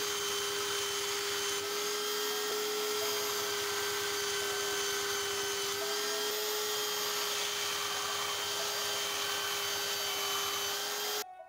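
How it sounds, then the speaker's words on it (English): Belt grinder with a finer belt sharpening a splitting axe, a steady high-pitched whine and hiss running continuously at close range without a break. "right now we again changed for the finer belt to get a nicer finish"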